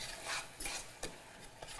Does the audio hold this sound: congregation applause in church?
no